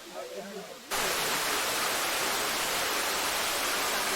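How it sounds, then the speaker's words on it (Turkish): A loud waterfall in a park sets in abruptly after a brief quieter moment, then holds as a dense, steady roar close by. "şelalenin sesi şu anda çok baskın olduğu için"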